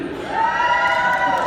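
A crowd cheers and whoops for Bethel University at a Social Work Day gathering at the state capitol, a sustained, fairly loud roar of many voices.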